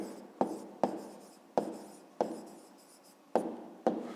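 A pen writes by hand in a math exercise book during a fifth-grade geometry exercise. Six distinct close scratching strokes each start sharply and fade, spaced irregularly over a quiet background with no talking.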